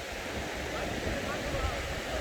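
A waterfall in Munnar, Kerala, gives a constant, dense rush of falling water, loud and close, with no pauses.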